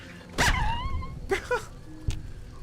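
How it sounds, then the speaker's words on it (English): A tiny coyote pup in Fallout: New Vegas gives a couple of short, high yips and a whimper, close and fairly clear, with quiet pauses between them. "Look at that look at the little tiny dog."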